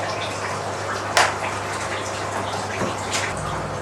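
Cheap 12V mini pressure washer spraying water to rinse strawberry roots in a hydroponic greenhouse setup, a steady close hiss of spray with a brief splash partway through.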